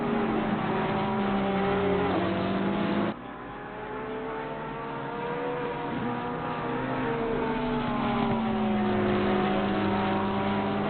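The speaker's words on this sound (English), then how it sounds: "Minke 800ths of a second behind Nifosi as they're braking for turn 1" GT3 race cars in the Assetto Corsa Competizione sim racing game brake for turn 1, engine tones dropping sharply through downshifts then climbing again, several cars audible together with no talk.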